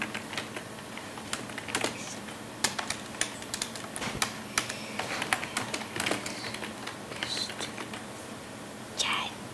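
Questions are typed into the FlowGPT AI chat on a computer keyboard, producing close, steady clicking keystrokes with irregular rhythm for nearly ten seconds.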